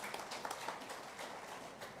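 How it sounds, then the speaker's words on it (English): Audience applause at a police summit at Emperors Palace, addressed by President Cyril Ramaphosa: a steady, dense patter of many hands clapping throughout, moderately loud, with no voice on top. "the applause on this is coming from the left side"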